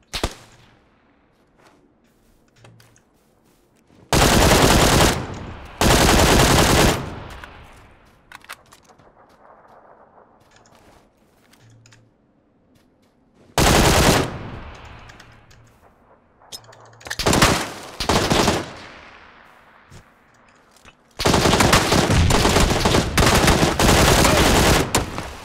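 Machine gun fire in the battle royale video game PUBG, several long sustained automatic bursts and a few short volleys with echoing tails between them, loud and close with no talking.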